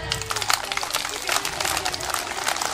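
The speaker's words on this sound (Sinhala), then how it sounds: "ඔතෙන්ට ආකාශ අත්පුඩියක්" A crowd claps at a preschool night camp in Mawathagama, a dense, steady wash of applause mixed with children's and adults' voices lasting the whole moment.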